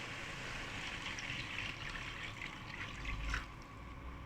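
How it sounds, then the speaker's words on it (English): Water pours steadily into a pot of anchovy sambal, a soft continuous trickle close by and alone, with a brief louder splash near the end. "I'm gonna add about I would say 250 ml of water."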